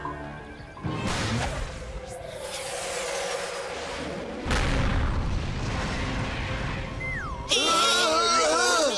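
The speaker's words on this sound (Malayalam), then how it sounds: "ആരാണ് ഈ സമയത്ത് പടക്കം പൊട്ടിക്കുന്നത്?" Cartoon explosions crack and boom like firecrackers bursting, loud crashes and whooshes arriving in a couple of waves, followed by a wobbling whistle-like tone at the end.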